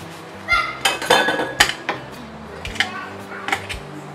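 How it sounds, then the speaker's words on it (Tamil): A kitchen knife is washed at a sink, with sharp metallic clinks and knocks against dishes and the basin coming in irregular bursts, close and clear. "நைஃப் வாஷ் பண்ணியாச்சு"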